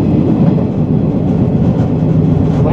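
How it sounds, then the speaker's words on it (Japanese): A Hokuetsu limited express 485 series train arriving at Kanazawa gives a loud, steady rumble and roar from inside the carriage, with no voices. "まもなく終点金沢に着きます。"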